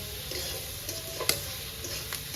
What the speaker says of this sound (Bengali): পেঁয়াজ আমার লাল লাল করে ভাজা হয়ে গেছে